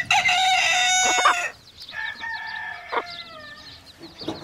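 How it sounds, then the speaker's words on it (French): A rooster crows loudly nearby, then after a brief pause gives a second, slightly fainter crow with some background clucking. "Le coq a sonné l'alarme."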